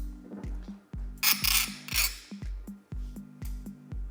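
An angle grinder strips the black anti-corrosion coating off a friction plate from a BMW limited-slip differential. The grinding comes in repeated rasping passes, close and fairly loud, with short gaps between strokes and no talking.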